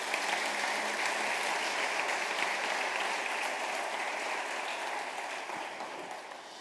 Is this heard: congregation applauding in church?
yes